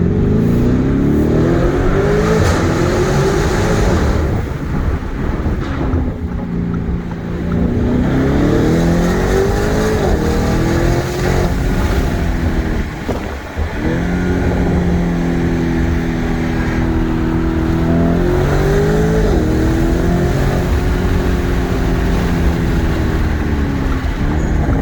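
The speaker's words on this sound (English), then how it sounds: "that exhaust sounds so good. Let's get it in Corsa mode now." A Lamborghini Urus engine in Corsa mode revs and pulls through repeated gear changes, its exhaust a loud, continuous growl rising and dropping in pitch with each shift, heard from inside the car.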